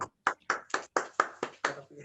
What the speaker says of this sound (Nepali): हामी स्वागत गरौँ उहाँलाई ताली बजाएर